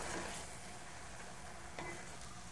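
White wine sizzling as it cooks down in a pan for an Italian-style cream sauce, a steady soft bubbling hiss with faint stirring, no talk.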